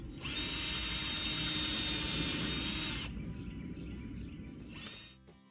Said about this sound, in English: I'm going to pop in screws there